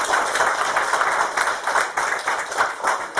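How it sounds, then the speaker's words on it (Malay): Applause from an audience at a peptide product seminar: a steady, dense wash of many hands clapping, fairly loud and unbroken throughout, with no talk over it. "Jadi beri tepukan kepada peptide"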